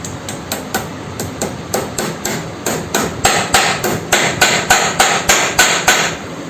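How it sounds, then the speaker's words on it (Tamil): Upper steering cone cup being hammered into a Pulsar 220F headstock, heard as a steady series of about twenty sharp metallic blows, close and evenly spaced, growing slightly louder toward the end, with no voice over them. "இது மேல் கோன் கப்பு, இதையும் மட்டமாக அடிச்சிக்கணும்."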